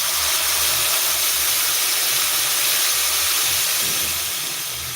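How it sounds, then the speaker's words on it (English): Blended tomatoes hit a hot cooking pot with a loud, broad hissing sizzle that carries on steadily and eases off slightly near the end. "now take your blended tomatoes and add to your cooking pot"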